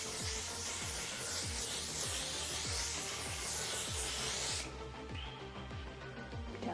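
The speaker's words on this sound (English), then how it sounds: "I'm gonna set my makeup today using the One Size Until Dawn Mattifying Waterproof Setting Spray" One Size Until Dawn mattifying waterproof makeup setting spray hisses in a close, continuous mist for about four and a half seconds, then drops to a quieter tail, with faint rhythmic tapping beneath.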